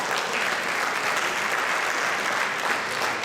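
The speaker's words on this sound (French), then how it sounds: "Vous pouvez continuer à applaudir." Audience applause at a concert, a brisk, even spread of clapping from a crowd that carries on steadily for a few seconds at moderate volume.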